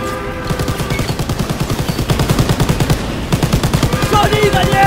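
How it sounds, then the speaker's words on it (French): Rapid machine gun bursts rattle in a World War II shooter, Call of Duty WWII, firing in fast regular runs broken by brief pauses, loud and close over layered game noise. "Mitrailleuse!"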